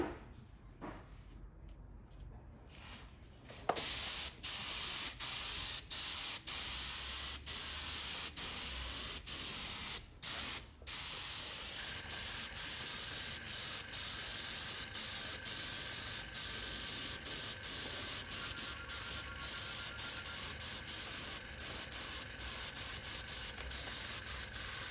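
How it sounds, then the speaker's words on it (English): A steady aerosol hiss of lacquer being sprayed onto a leather car door card, starting after a few seconds and running continuously, with brief pauses and faint clicks between bursts. "now we're going to spray on the lacquer"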